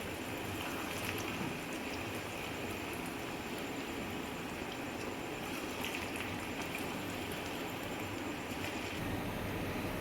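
Green moong dal pakoras fry in oil over a medium gas flame, giving a continuous soft sizzling and bubbling hiss that stays even throughout with no voices.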